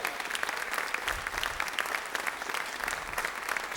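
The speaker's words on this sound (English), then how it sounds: "Can we have a round of applause for all these volunteers?" A crowd at a live community arts night for the Village Arts Factory in 2021 claps for the volunteers, giving dense, sustained applause from many hands filling the room.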